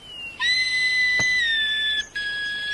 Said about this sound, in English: It's Wilfred playing his new whistle.